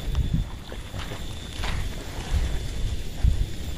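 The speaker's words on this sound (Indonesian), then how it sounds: "Waduh, angin kenceng kawan." Strong wind gusts buffet the microphone at the Karangkates reservoir during fishing, a rough, rumbling low roar that surges and dips throughout, close and fairly loud with no talk.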